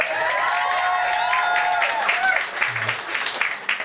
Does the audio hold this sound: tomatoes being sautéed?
no